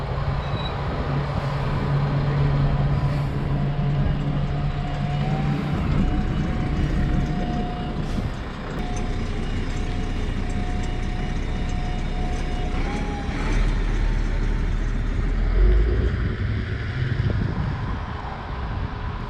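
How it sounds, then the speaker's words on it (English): An airport bus, a yellow line A bus at Charleroi Airport, arrives at the stop amid outdoor traffic rumble and wind buffeting the microphone, its low engine drone building gradually over a steady roadside noise bed. "is that the bus coming now?"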